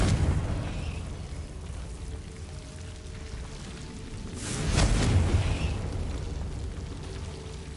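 A Confringo fire spell explodes in Hogwarts Legacy: a single loud, broadband burst around the midpoint over steady game ambience, with a lower rumble swelling and fading after the blast.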